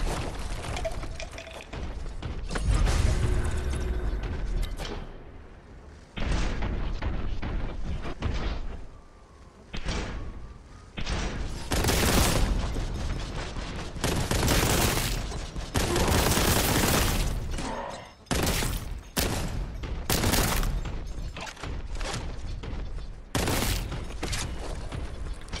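Rapid, dense bolt gun fire in the Warhammer Boltgun shooter, loud sustained bursts with impacts and mechanical clatter, broken by brief pauses, no talking.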